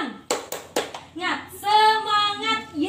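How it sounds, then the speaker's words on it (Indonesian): A group of schoolchildren in a classroom doing a rhythmic spirit clap, several sharp evenly spaced claps close by, then voices chanting together in a drawn-out call. "Bu Guru ingin mengasih tepuk semangat biar kalian semangat"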